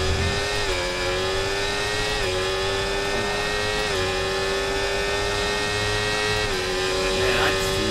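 A McLaren Formula 1 car races in F1 24, its engine holding a high steady whine that shifts pitch through gear changes, loud and continuous, with a voice talking over it.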